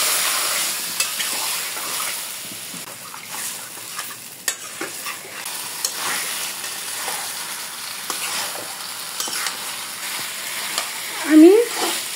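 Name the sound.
stirring chili powder into frying onions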